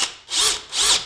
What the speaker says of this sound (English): I'm gonna run a tap on a drill through these head bolts.